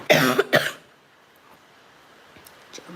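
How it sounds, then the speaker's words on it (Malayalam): Two quick, harsh coughs close to the mic in an indoor live setting, followed by near silence with faint room noise. "ചുമച്ച് ഞാൻ ചാവും തോന്നുന്നു ഗൈസ്."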